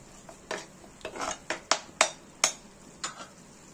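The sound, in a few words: stirring Kashmiri chilli into prawn rezala masala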